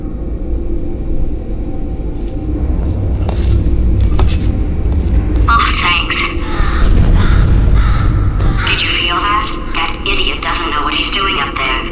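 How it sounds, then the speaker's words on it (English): A bird caws several times in the video game Portal 2, the harsh calls coming in bursts over a low rumbling background while a voice talks throughout. "I'll hate this bird."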